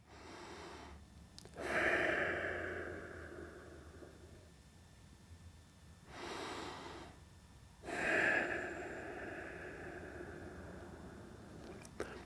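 Slow, deep breaths drawn and released during a golf-swing rotation and fascia stretching exercise, three long airy inhales or exhales spaced several seconds apart, close and fairly soft, with no talking.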